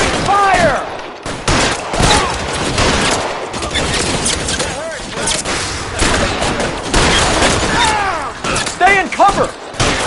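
Covering gunfire in L.A. Noire, a steady barrage of shots with sharp repeated cracks throughout, loud and close, with voices calling out over the firing.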